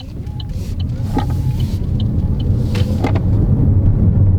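Vauxhall Mokka-e electric car, 2022 model, launching and accelerating hard: a steady low road and motor rumble that builds slightly over several seconds, with faint clicks and small interior noises above it.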